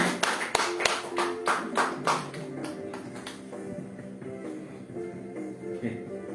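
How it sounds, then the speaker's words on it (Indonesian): Audience applause at a sharia business seminar welcoming a speaker to the stage: a few seconds of loud, choppy clapping bursts that give way to a softer, sustained patter over a steady tonal hum. "Kita sambut beliau dengan tepuk tangan yang meriah"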